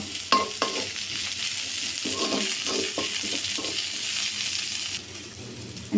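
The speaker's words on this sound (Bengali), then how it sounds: "রসুন আর পেঁয়াজটা এরকম ভাজা ভাজা হয়ে গেছে লাল হয়ে গেছে এখন আমি বিলাতি ধুনের পাতা দিয়ে দিব কিছুক্ষণ নাড়িয়ে বরবটিটা দিয়ে দিব" Garlic and onion fry in a pan as culantro leaves are stirred through, giving a steady close sizzle broken by several sharp scraping stirs, with no talking.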